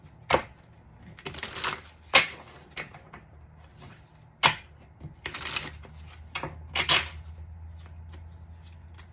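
Crisp bursts of tarot cards being shuffled, riffling and slapping in several irregular rounds, close by with quiet pauses between.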